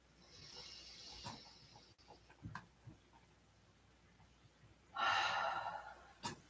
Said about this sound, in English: Morning breathing, really hearing that audible breath.